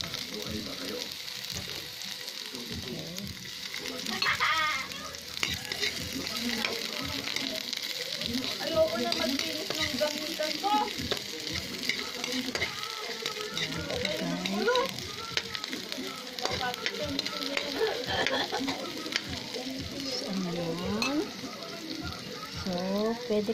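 Onion sizzles in a hot frying pan with a continuous soft hiss and crackle, with occasional stirring, under a voice talking throughout.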